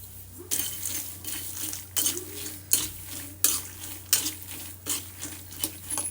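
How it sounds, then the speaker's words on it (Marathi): Peanuts roast in a little oil in a pan, with repeated scraping and clattering stirs over a faint sizzle at close range, the strokes coming about every second. "हलकस एक मिनटं भाजून घ्यायचं आहे शेंगा"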